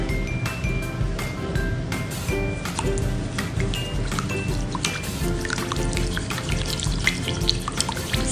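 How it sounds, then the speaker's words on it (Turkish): Sugar and water being whisked into hot vegetable oil for a colored roll cake, with rapid rhythmic clicking and sloshing of the whisk against the bowl, loud and continuous. "Son olarak suyu da ekleyip birazcık çırpacağım."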